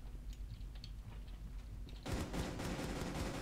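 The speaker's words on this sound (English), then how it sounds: "Who is shooting?" Gunfire in the video game Rainbow Six Siege begins after a quiet stretch of faint clicks, then erupts into a dense, loud burst of rapid shots that continues to the end.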